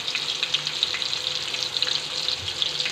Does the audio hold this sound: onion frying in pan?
yes